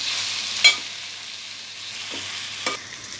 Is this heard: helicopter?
no